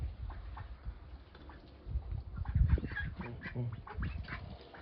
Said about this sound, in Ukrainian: Ті качки як зголодніли.